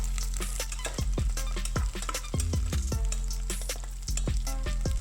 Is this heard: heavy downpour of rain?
no